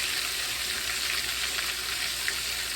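Thick crispy-fried pork chops crackle in a pan, a steady bright sizzle and spatter heard up close, constant throughout with no speech.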